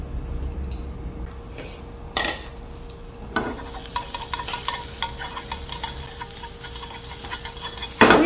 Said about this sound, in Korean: 여러분, 오이 볶으실 때 식용유 살짝 넣어주시고요. 물기 뺀 오이를 볶아주세요.